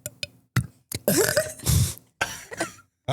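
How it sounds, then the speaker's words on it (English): A person gives a deliberate, drawn-out burp as a party trick, a loud raspy belch in the middle of a few short vocal bursts and breathy noises, close to the microphone. "Burp."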